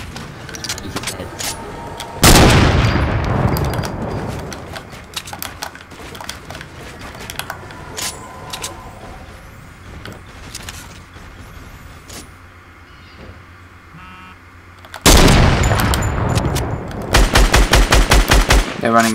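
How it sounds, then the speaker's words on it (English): Rapid bursts of automatic gunfire aimed at a squad in a Fortnite battle royale match, loud sustained volleys opening early and returning near the end, with quieter scattered shots and game noise between. "now there's people shooting us from the north"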